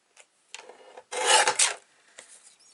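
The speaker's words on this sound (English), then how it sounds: "If we cut that piece down to 1/2 inch. Let's do that." Card-making paper being cut down to size with a paper trimmer, heard as a few short close scraping strokes followed by a longer, louder rasping slide of the blade.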